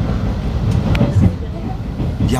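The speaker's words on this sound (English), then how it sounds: "So, we are on the Japanese train right now." Inside a moving train in Japan, a loud low rumble and rattle of the carriage runs throughout, with brief clanks and a voice faintly under the noise.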